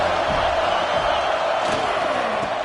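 A football stadium crowd roars in a dense, continuous wash of cheering and shouting that holds steady at a loud level.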